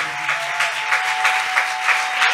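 A church congregation at Sunday prayer breaks into applause, a dense wash of many hands clapping at a moderate distance, steady for a couple of seconds.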